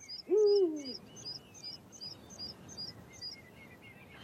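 A Eurasian eagle owl in a Scandinavian forest gives one deep, close hoot, with smaller birds chirping repeatedly in the background throughout.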